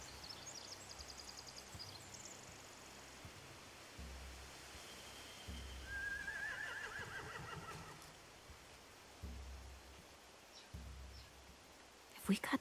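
Horses whinny in The Walking Dead video game, faint and distant beneath game dialogue, with one clear rising neigh partway through over a low ambient wash.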